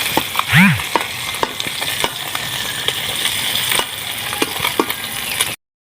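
Small puti fish sizzle steadily in hot oil, with occasional clinks and scrapes of a utensil stirring the pan, close and continuous.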